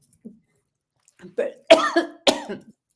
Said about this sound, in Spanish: también me dio tos, a mí también me dio tos